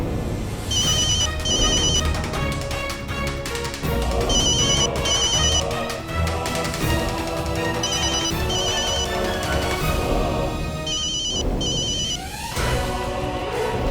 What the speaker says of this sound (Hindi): अरे भाई, ये तो केबल वाले का फोन है।